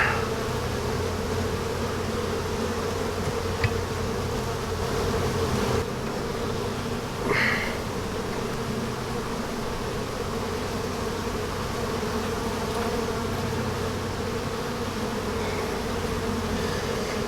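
A crowded box of honeybees from an April package colony hums in a sustained, even buzz during a hive inspection, with a couple of brief knocks partway through and no speech.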